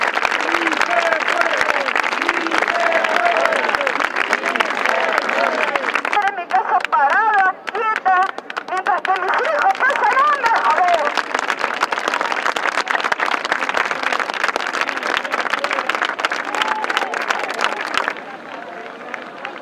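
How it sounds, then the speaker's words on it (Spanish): A supportive crowd gathered for a man on hunger strike breaks into strong applause with cheers, loud and close. Voices rise over the clapping throughout, chatter and shouts mixing in near the middle. "Por favor, quiero un fuerte aplauso para todos"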